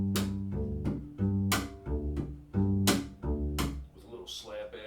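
Pizzicato double bass in a bluegrass pattern, deep plucked notes alternating with sharp percussive slaps on the backbeat, played close and alone in a steady rhythm.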